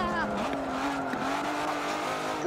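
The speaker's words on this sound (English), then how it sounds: "stop drifting, you stupid car!" Race car engine and squealing tires from a drifting car in Forza Motorsport 7, a steady loud engine drone with sliding tire screech running throughout, with a voice talking faintly underneath.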